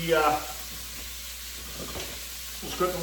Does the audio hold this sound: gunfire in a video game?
no